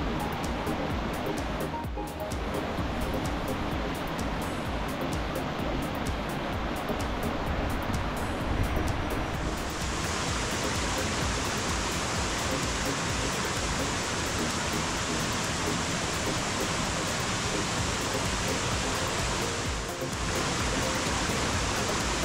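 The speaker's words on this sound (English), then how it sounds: "So check out the creek before we descend down." A creek flowing in Alcatraz Canyon on the Newnes Plateau in the Blue Mountains, heard as a loud, continuous, close rush of water that fills the whole stretch with no talk.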